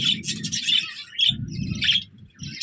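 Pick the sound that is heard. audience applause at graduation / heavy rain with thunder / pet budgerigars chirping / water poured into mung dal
pet budgerigars chirping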